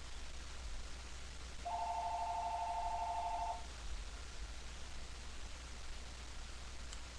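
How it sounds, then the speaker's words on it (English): A telephone rings once with a steady electronic two-tone trill lasting about two seconds, clear over a constant background hiss, with no voices. "and the phone rings."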